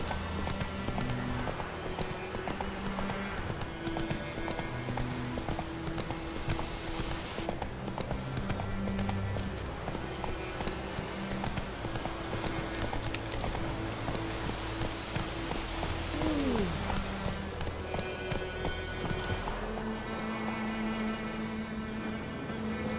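Roach the horse clip-clops steadily through a video game world, hooves pounding in a continuous rhythm over a bed of music and ambient sound, with no talk.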